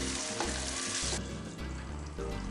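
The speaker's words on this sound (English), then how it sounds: "I'll give this a bit of a stir around" Lamb pelau sizzles in a pot as coconut milk is stirred in, a steady close frying hiss with soft scraping and stirring movements throughout.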